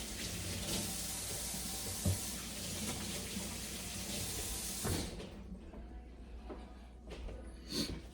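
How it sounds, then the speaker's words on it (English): Steady hiss of tap water running into a cooking pot in a home kitchen, continuous and close for about five seconds before cutting off, leaving quiet clatter and a faint thump. "I'm going to put some water in here"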